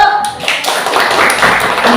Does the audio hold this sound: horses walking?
no